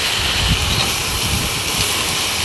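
Potatoes and finely chopped stalks sizzling in a hot pan with dried fish, a steady, close hiss of frying that runs continuously with no talk.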